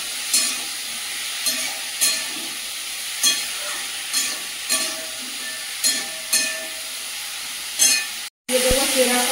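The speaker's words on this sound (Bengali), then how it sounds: "পরিমাণ মতো লবণ, পরিমাণ মতো হলুদ গুঁড়ো, আবারও ভালো করে কষিয়ে নেব" Spices with salt and turmeric are sautéed in a pan. Evenly spaced spatula strokes scrape through a constant frying hiss, then a brief silence gives way to a different, busier stretch of kitchen sound.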